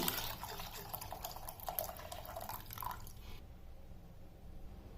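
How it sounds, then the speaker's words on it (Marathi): Cooled boiled water, prepared for a blue sharbat, strains through a sieve and trickles and drips steadily at close range. It stops abruptly near the end, leaving near silence. "हे पूर्ण पाणी आता गाळून घ्यायचं एक चाळणी ठेवून"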